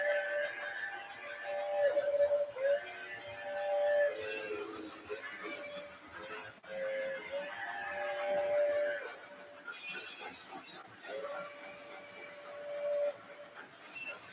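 A TMCC model steam train whistle sounds in several long, steady tones, with rumbling and clicking mechanical noise running beneath it throughout.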